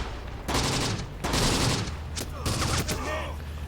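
Bursts of gunfire in the World War II strategy game Close Combat, set in the North African campaign, coming as several loud crackling volleys separated by brief lulls and with no talking over them.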